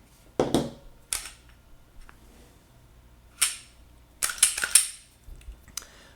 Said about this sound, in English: we're going to go ahead and clear the firearm